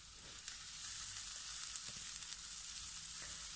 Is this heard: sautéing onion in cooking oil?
yes